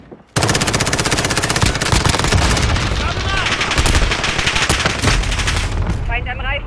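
Continuous heavy automatic gunfire in a Call of Duty Modern Warfare multiplayer match, loud and close, sustained for several seconds with rapid shot rhythm and a short voice callout heard near the end.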